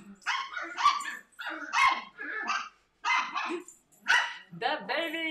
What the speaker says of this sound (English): The dog still screams sometimes.